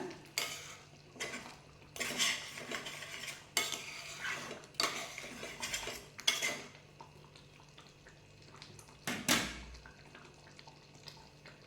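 A utensil scrapes and clinks against a pot while green peas gravy with chopped coriander leaves is stirred, the sharp metallic strokes coming in irregular bursts with quiet gaps and faint simmering between them.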